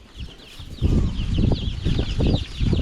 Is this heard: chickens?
yes